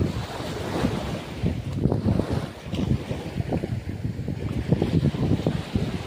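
Ocean waves wash onto the shore in irregular surges, with strong wind buffeting the microphone throughout and no talking.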